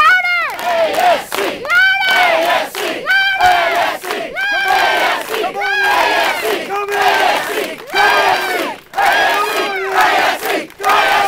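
A large group of kids at a sports camp shouting a rhythmic three-beat chant over and over, loud and close, building into a rowdy crowd roar with a few cheers mixed in.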